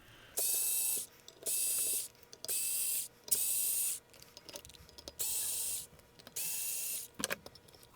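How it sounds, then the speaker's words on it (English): A power screwdriver whirs in six or seven short bursts of about a second each, with quiet handling sounds between them, as it removes screws from a Federal explosion proof horn. "Now, I don't normally use a screwdriver like this."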